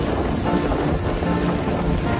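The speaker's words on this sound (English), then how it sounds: "So it's night here and it's raining here." Heavy rain falls at night around a car on a drive near the terminal at Bengaluru Airport, a steady dense wash of rainfall with a low rumble underneath, continuous and fairly loud throughout.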